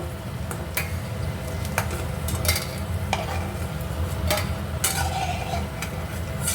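Cauliflower pakoras frying in hot oil give off a steady, close bubbling sizzle, punctuated by sharp scattered clicks and scrapes from a utensil lifting the fritters.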